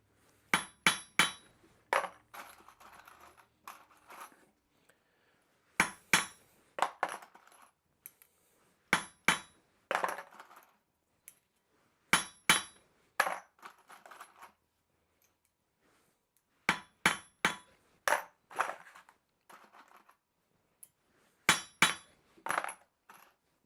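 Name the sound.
hammer taps flattening a burr on punched steel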